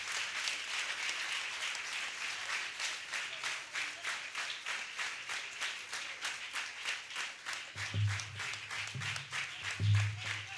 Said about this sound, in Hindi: जोरदार तालियां यीशु के लिए बजाइए।